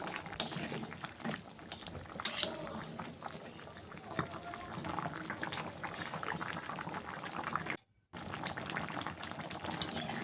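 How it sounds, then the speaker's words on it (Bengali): Chicken feet and gizzard curry gravy bubbling on the stove, a dense continuous simmering hiss with soft liquid pops, briefly cut off near the end, and faint voices underneath. "দেখুন তরকারির ঝোলটি ফুটে গেছে।"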